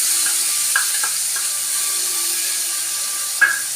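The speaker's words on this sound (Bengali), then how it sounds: "কালো জিরে ফোড়ন দিয়ে দিলাম। দিয়ে আমি এই পোস্ত বাটাটা ঢেলে দিলাম।" Poppy seed paste poured into hot oil tempered with nigella seeds, a soft continuous sizzle broken by a few sharp clicks and scrapes, close up with no talking.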